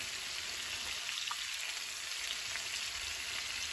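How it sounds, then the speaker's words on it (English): Garlic sautés with shrimp in a hot pan, giving a steady, close sizzle that runs unbroken throughout with no voices. "This is gonna add some garlic to this."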